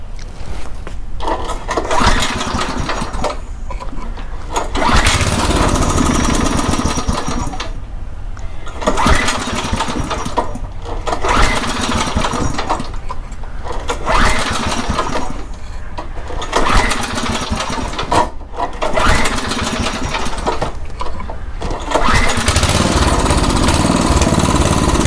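A Craftsman rototiller with a rusty tank and dirty carburetor runs steadily at a too-low idle, its small engine chugging loudly and close up with a rough, uneven rhythm and periodic dips throughout.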